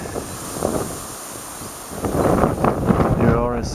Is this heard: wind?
yes